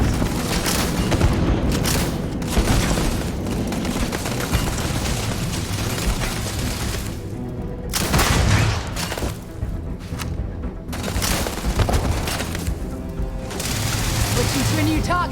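A grenade explodes during a firefight in the Starfield video game, heard as heavy booms within a dense, continuous mix of combat noise and game audio, with voices speaking over it.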